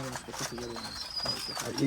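Soft pigeon cooing mixed with background voices and household noise, low murmuring coos repeating under the chatter.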